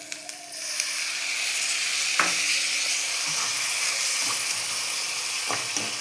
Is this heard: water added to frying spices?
yes